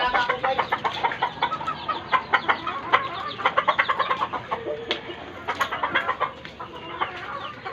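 Hens on a game farm cluck busily while being fed, a dense, steady chatter of many birds with short, sharp calls overlapping throughout at close range.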